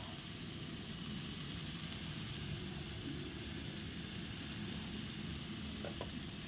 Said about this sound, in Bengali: এখন এখানেই কষানো হোক